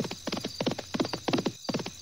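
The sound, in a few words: horse hooves clip-clopping, cartoon horse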